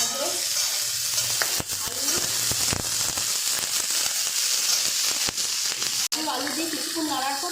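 Carrots and potatoes fry in hot oil with cardamom for a chicken stew, a loud, continuous crackling sizzle stirred throughout, with occasional pan knocks and a faint voice near the end.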